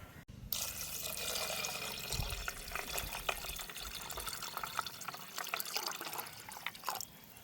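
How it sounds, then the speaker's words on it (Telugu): Water pours steadily into a cooking pot to boil mutton, a continuous close splashing fill lasting several seconds before it stops, with no talk. "ఉడకబెట్టడం కోసం తగినన్ని నీళ్లు పోస్తున్నా."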